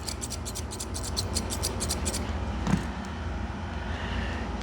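Grooming scissors cutting a tiny Pomeranian-Papillon mix's fur, a rapid run of about a dozen crisp, close snips in quick rhythm, then stopping, with a low background hum underneath.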